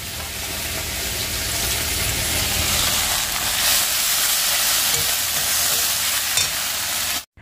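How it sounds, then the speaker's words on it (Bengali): Spice paste fries and is stirred in a pan on a home stove, a loud continuous sizzle with scraping stirs that cuts off abruptly near the end, no talk. "এদিকে মশলাটা কষিয়ে নিচ্ছি, আর সয়াবিন আর আলুটা ভাজা করে তুলে রেখে দিই"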